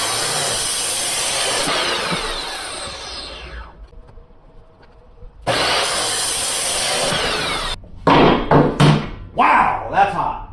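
A steel driveshaft section being cut in half with a power tool on a 5.3 swapped S10 Blazer project: a sustained harsh grinding cut, a pause, then more cutting and a few sharp knocks and clanks.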